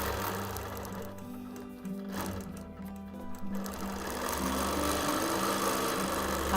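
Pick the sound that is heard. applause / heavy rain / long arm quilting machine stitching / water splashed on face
long arm quilting machine stitching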